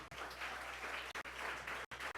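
Audience applause at a corporate product presentation, a steady moderate wash of clapping with a couple of brief dropouts, fairly quiet and without talk.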